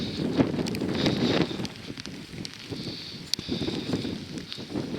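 Wind buffets the microphone outdoors at Plouguerneau in Brittany, a loud, gusty low rumble that rises and falls with a few knocks and rustles.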